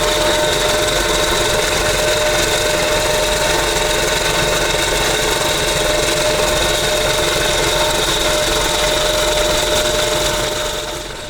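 Prime mover of an SD23T4 locomotive works under load close by, a loud, continuous diesel drone with a steady whine held evenly throughout.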